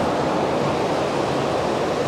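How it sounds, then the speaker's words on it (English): A small waterfall on a hiking trail near Taipei gives off a steady, loud, close rush of falling water, continuous and without talk. "it's like a mini waterfall right there"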